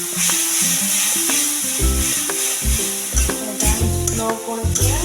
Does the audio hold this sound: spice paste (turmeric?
yes